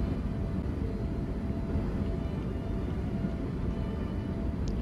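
Steady low cabin rumble and engine drone of a Concorde airliner in flight in a Roblox flight sim video game, constant and even throughout with no talk.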